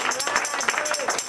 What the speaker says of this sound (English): Okay, applaudissez.